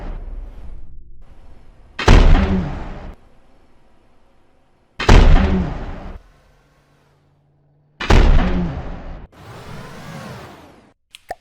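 A PAC cannon in From The Depths fires three-second EMP charges: three loud, sharp booming blasts roughly three seconds apart, each decaying over about a second, followed by a fourth rushing, hissing burst at the end.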